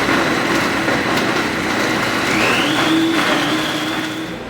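A blender whirs continuously, loud and close, as it purees roasted vegetables for sofrito, its motor pitch rising slightly partway through before it winds down at the end.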